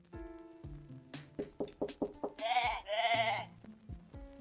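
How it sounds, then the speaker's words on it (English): In a cat detective game, a character gives a stream of short wavering sheep-like bleats with quick knocking notes mixed in, rising into two longer quavering bleats before trailing off. "Why does that sound like a sheep?"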